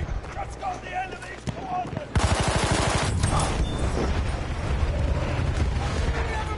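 Battlefield 1 artillery strike and gunfire: rapid bursts of shots, then a heavy rumbling barrage of explosions that carries on loud and continuous, with voices calling out over the battle.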